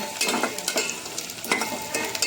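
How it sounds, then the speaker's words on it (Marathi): Onions frying in a pan as the base for a Malvani-style prawn curry give a steady close sizzle with occasional stirring scrapes and clinks, no voices. "तर आपला कांदा भाजलाय."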